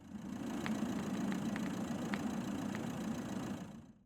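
A car engine idles steadily, a low continuous hum with a few faint ticks, fading out at the end.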